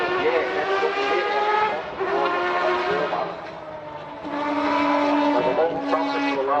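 Historic Formula One race car with variable-length intake trumpets screaming past at Goodwood, a loud high-revving engine note rising and falling through two close flybys with a brief dip between them.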